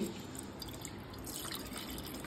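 Fresh mango juice pours in a steady, close liquid trickle with faint splashing that holds evenly throughout, with no clear voices.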